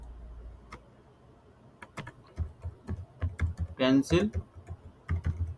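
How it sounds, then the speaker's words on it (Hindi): Keys clatter on a computer keyboard as a search keyword is typed into Amazon, with irregular close clicks that quicken into a dense burst midway, and a voice briefly speaking. "ये यहाँ पे मैंने ये कीवर्ड को यहाँ पे टाइप किया"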